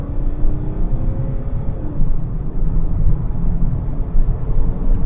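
A BMW E60 525d diesel saloon with M Pack pulls through its gears, a deep, steady engine drone that rises, drops at a shift, then keeps building, heard from inside the cabin with heavy road rumble.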